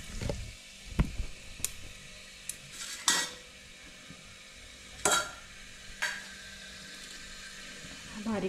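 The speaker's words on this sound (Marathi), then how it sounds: "तेल तापलं आहे. आता मी फक्त तेजपत्ता आणि एक चक्री फूल टाकते." Bay leaf and star anise drop into hot oil in a cooking pot for chicken dum biryani, giving a soft, steady sizzle under scattered clinks and scrapes of a utensil against the pot, with a few sharper knocks.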